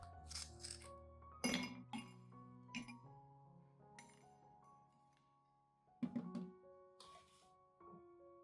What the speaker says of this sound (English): place 3 to 5 ice cubes into a cup and wait about 15 minutes for them to melt